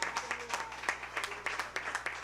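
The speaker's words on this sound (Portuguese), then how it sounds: "nós queremos te aplaudir" A church congregation claps at a distance in a sparse, uneven patter, with voices faintly underneath.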